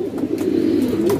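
Low, soft cooing of racing pigeons hums steadily throughout, a continuous throaty murmur close by with no other sounds.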